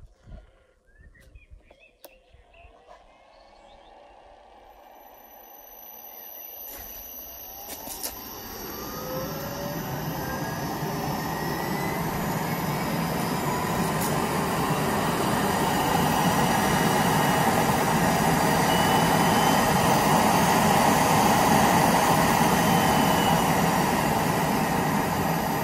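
A 3hp regenerative blower on a test run, fitted with a pneumatic piston, spools up from quiet clicks into a loud, steady high-pitched whoosh and whine that builds and holds.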